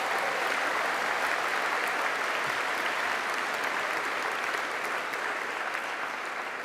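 Sustained loud applause from a large audience at a London Business School honorary fellowship ceremony, dense and even throughout with no gaps or voices.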